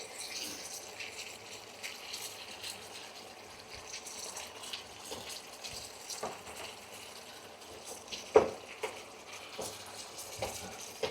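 Water poured into a pan of frying mutton liver, a faint soft gushing and sizzling hiss that continues at low level, with a couple of brief sharp clinks near the end.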